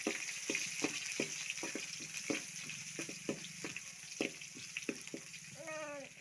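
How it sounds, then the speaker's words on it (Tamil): Garlic and dried red chillies sizzle in hot oil for a homemade tomato rasam, a steady crackling fry with sharp spatter pops, ending with a brief rising squeak. "பூண்டு காஞ்ச மிளகா போட்டுக்கலாம்"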